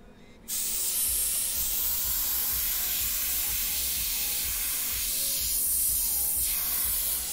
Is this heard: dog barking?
no